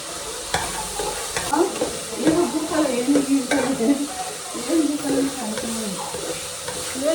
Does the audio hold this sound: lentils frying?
yes